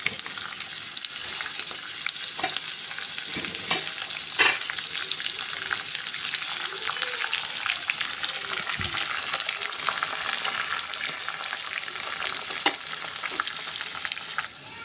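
Ingredients for pulihora fry in a pan with a soft, continuous sizzle, broken by occasional stirring scrapes and light pops. It goes on for about fifteen seconds without speech.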